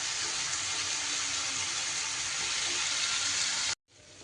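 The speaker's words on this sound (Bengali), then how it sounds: "মশলাটাকে ভাজা ভাজা করে নেব।" Spice paste for a catla fish korma sizzles loudly and steadily in a pan, a continuous hiss with no talking that stops abruptly near the end.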